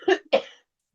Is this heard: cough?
yes